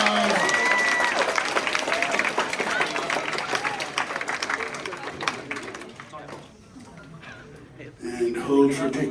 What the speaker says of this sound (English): Please give a round of applause to Team 5